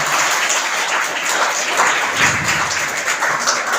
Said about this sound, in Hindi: सभी के लिए पहले एक जोरदार ताली बजा दी जाए